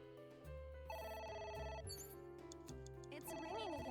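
A telephone rings in AI: The Somnium Files, the game's ringtone chiming in a steady patterned loop over music and game sounds, fairly close and continuous.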